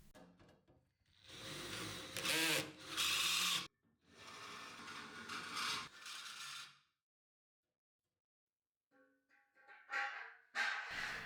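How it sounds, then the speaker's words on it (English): A power drill whirs in several bursts of a few seconds each, close by, drilling holes for a home squat rack, with a pause of near silence before a final shorter run. "If you want to drill a big hole, start off with a small pilot hole"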